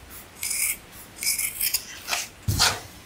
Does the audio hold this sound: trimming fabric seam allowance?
yes